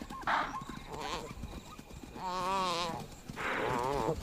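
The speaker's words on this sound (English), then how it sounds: "The chaser can hear the desperate bleat of a topi." Desperate bleating cries of a topi caught by lions at night on the African plains, a few wavering calls rising out of a low commotion, with the loudest bleats near the middle and the end.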